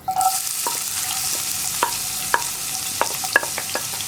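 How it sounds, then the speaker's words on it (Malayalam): Finely chopped onion frying in hot oil with cumin and fenugreek seeds for okra curry, a steady bright sizzle with occasional stirring clinks and scrapes in the pan, close and alone. "ഉലുവയും ഒന്ന് ചൂടായി തുടങ്ങുമ്പോൾ നമ്മളിതിലേക്ക് ചെറുതായിട്ട് ചോപ്പ് ചെയ്ത് വെച്ചിരിക്കുന്ന സവോള ചേർത്ത് കൊടുക്കാം"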